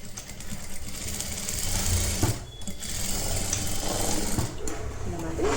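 A sewing machine stitches netted blouse fabric with a steady, close mechanical whirr that runs almost the whole time and briefly dips near the middle.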